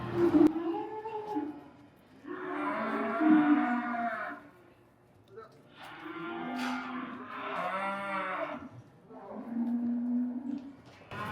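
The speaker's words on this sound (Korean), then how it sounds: "저 송아지가 들어왔어요" Cattle and a calf moo inside a barn at a cattle breeding farm, with several long, loud, drawn-out lowing calls separated by short pauses.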